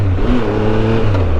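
A 2017 Triumph Tiger Explorer XCx adventure motorcycle engine revs loudly and close by, its tone rising and falling in a smooth, continuous drone.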